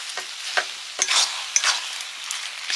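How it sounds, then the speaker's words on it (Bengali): A ground paste of garam masala and cumin goes into a frying pan where the food has mostly dried out, with soft sizzling and several spoon-stirring scrapes and taps, close and moderately loud. "এবারে আমি গরম মশলা জিরে একসঙ্গে বেটে রেখেছিলাম দিয়ে দিচ্ছি।"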